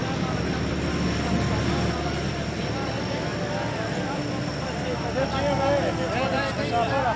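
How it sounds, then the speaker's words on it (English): An airplane on the tarmac gives a loud, steady engine drone beneath a crowd and talking, with voices overlapping throughout. "So flight has just arrived."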